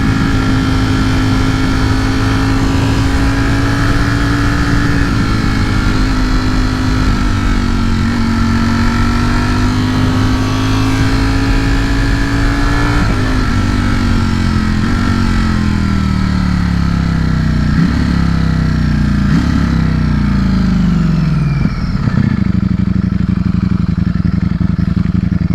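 A Ducati Streetfighter V4S motorcycle engine drones steadily while riding on a road with twisty bends, its pitch rising and falling through gear changes, loud and close with rushing wind and no talk.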